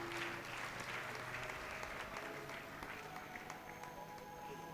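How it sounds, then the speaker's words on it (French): Sustained crowd applause fills a church healing service, steady dense clapping from many hands at close range throughout, with no talk over it. "Acclamons le roi des rois."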